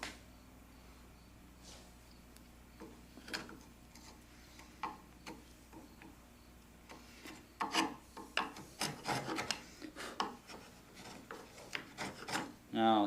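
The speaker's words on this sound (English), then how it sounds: "And then I radius these lightly so that it'll fit the rounds of the holes left either by the doweling jig or by the mortising bit." Rasp filing the edges of a wooden tenon for a door joint, an intermittent dry scraping of short strokes that grows busier and louder in the second half, close up with no talking.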